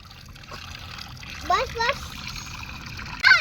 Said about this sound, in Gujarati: મૂકવાનું છે, પાણી મૂકવાનું છે.